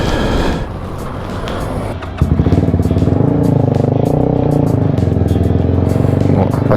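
A 125cc motorcycle carrying two riders idles unevenly, then the engine catches and settles into a loud, steady putter with a throbbing rhythm, close by, with occasional clatter.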